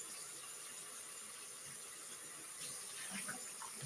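Hot water running from a kitchen sink tap while cooking, a steady close hiss of flowing water with slight splashing, alone and unbroken.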